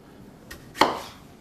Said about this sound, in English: Just chopping it into quarters is fine for the blender.